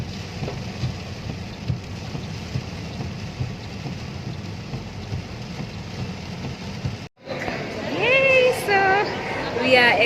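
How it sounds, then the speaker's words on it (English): Very heavy rainfall pouring down in South Africa near Oliver Tambo Airport, a dense steady hiss of rain with low rumbling for most of the clip. It drops out briefly near the end, and then people talk over the sound. "we were bidded farewell by very heavy rainfall that poured for around 3 hours or so"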